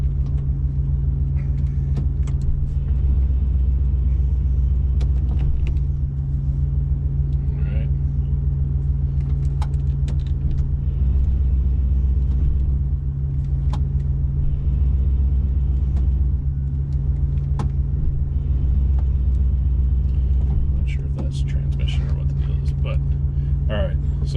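A 1994 Ford engine idles steadily with a low, continuous rumble while its transmission is shifted through the gears, including reverse, the hum swelling slightly at intervals.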